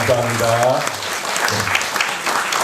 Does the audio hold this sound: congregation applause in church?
yes